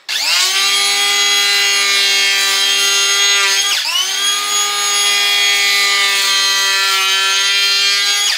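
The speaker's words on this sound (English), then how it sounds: "LXT planer, shave a little bit off the edge of that" A Makita LXT cordless power planer shaves the edge of a board during drywall work in a loft conversion, a loud sustained whine running about eight seconds with a brief dip and restart midway, alone with no talking.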